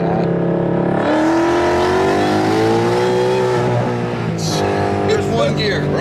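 An S550 Mustang convertible, tuned for speed, revs up in a loud close-up blip, its engine pitch climbing then settling back to a steady idling rumble, with people talking around it.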